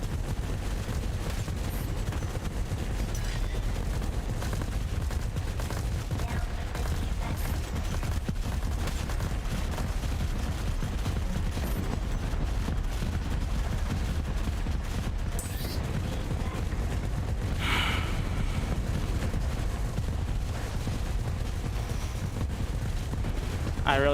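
Turret gunfire in the real-time strategy game Rogue Command rattles on in dense, continuous bursts, with rapid shots and booms layered into a constant barrage that runs the whole time.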